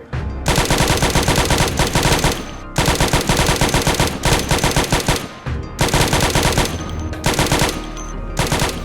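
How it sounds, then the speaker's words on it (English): A machine gun fires in Project Zomboid: three long, loud automatic bursts of rapid shots, separated by brief pauses and close up. "It's a machine gun!"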